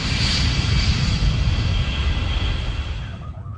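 Airplane engine roaring overhead, a loud steady drone with strong low rumble that holds level before starting to fade near the end.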